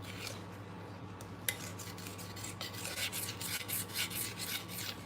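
Scraping around a mixing bowl while baking, a rough rasping rub repeated in quick strokes, close and fairly quiet, with no talking.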